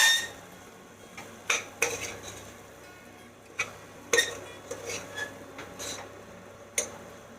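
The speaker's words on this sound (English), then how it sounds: "Stir it up" A spoon stirs rice khichadi with masalas in a metal pot, scraping and clinking against the sides in irregular strokes, close and fairly crisp against a quiet kitchen background with no talking.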